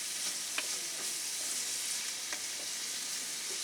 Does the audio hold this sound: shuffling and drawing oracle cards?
no